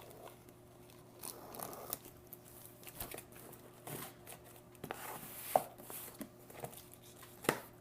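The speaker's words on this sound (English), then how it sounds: "let's go ahead and get our knife out and let's cut it open very gently" A knife slices gently into the packaging of a British Ministry of Defence 24-hour ration pack, quiet scattered cuts, crinkles and taps spread over several seconds, close and soft against a low background hum.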